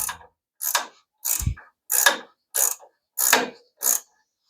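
A cranking tool compresses the front springs on a 1934 Plymouth coupe, making seven separate ratcheting clicks in an even rhythm up close. Each pull sounds as a short mechanical burst, with one dull low thud partway through.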